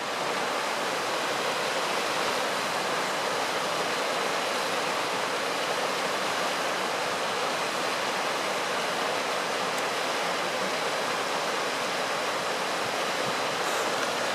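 A mountain creek in a wilderness backpacking area rushes steadily below, a dense, even broadband roar of flowing water with no breaks, heard from above the creek.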